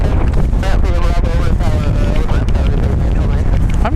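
Strong wind buffeting the microphone at Raleigh Durham International Airport, a loud continuous roar with rumbling gusts, while someone talks over it.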